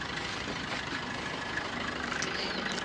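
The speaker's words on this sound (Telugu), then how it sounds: "ఇంజన్ సౌండ్ అయితే మంచిగా నీట్గా ఉంది ఒకసారి వినండి" A 2017 Maruti Swift VDI diesel car engine idles with a steady, low rumble, an even, unchanging drone, close by and fairly loud, with no talking.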